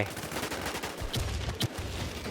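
Gunfire in the video game Midnight, a few sharp shots cracking out in quick bursts over a rumbling game background.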